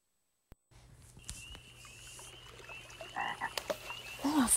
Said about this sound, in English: Oh, a frog?